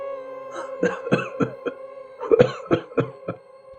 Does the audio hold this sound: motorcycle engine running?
no